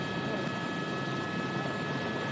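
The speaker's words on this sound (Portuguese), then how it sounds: "O helicóptero está fazendo uns giros aqui" A helicopter circles overhead before landing at Bangu prison in Rio de Janeiro, with a steady, broad rotor and engine roar that stays even and fairly loud with no talk.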